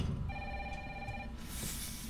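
An old-style telephone rings in the survival horror video game Resident Evil 3 Remake, one bright trilling bell burst lasting about a second over a low ambient rumble, followed by a short hiss.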